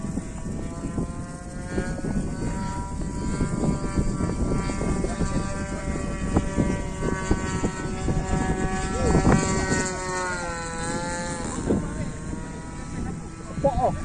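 Small-engine drone of an RC warbird Zero 60 scale model plane with a DLE 20cc gas engine, flying on a windy day, a steady buzz rising and falling in pitch as it passes, with wind buffeting and people talking nearby.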